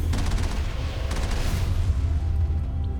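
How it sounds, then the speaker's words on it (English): Gunfire from the Mass Effect video game on the Prothean world of Ilos, a dense, steady barrage of low booming shots and crackling bursts that fills the whole stretch without pause. "Hey, stop shooting at me."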